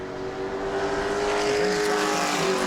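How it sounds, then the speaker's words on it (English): A sportsman race car howls around the track during qualifying at New Smyrna, its engine droning loud and steady at high revs for a few seconds with no talk. "Cody Brusso in car number 7"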